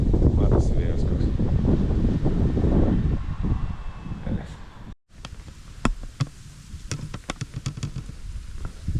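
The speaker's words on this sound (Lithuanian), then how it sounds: "Vėjas didelis, lietus lyja" Strong wind with rain gusts over open water on a catfish fishing outing, a loud roaring buffet on the microphone for several seconds, then a sudden cut to quieter scattered knocks and clicks.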